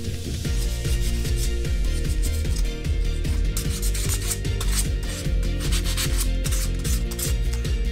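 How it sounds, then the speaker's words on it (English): Sandpaper cleans up 3D-printed plastic parts for a fly fishing reel. Close, rhythmic rasping strokes repeat steadily over a faint tonal background. "Put a little bit of sandpaper that I'll be cleaning each piece up with."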